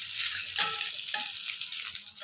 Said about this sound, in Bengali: পাস্তাগুলো দিয়ে দিয়েছি। এবার নাড়াবো ভালো করে